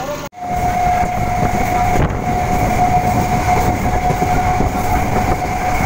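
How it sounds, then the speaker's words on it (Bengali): A passenger train on the local line toward Muragachha and Bethua town rolls on with a loud, constant rumble heard from close range, under a thin sustained tone and a few brief clunks. "ট্রেন এই মুহূর্তে পৌঁছে গেল ঘুগুলিয়ার পরবর্তী স্টপেজ মুড়াগাছা"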